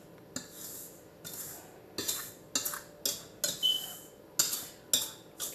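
A utensil scrapes and clinks around a bowl of dry cake ingredients, repeated rhythmic strokes about twice a second, close and clear with no talking.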